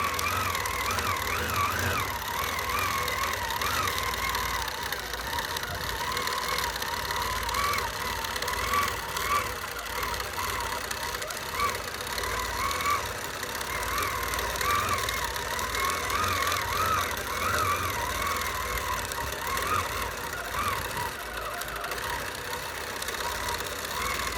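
Sewing machine running continuously during free-motion stipple quilting, a steady fast mechanical whir and rattle that holds at an even, moderate level throughout without pause.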